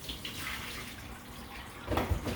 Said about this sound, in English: So I just give them a nice rinse.